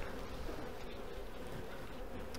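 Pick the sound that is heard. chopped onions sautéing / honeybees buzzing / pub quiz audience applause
honeybees buzzing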